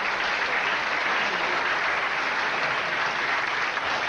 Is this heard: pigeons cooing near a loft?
no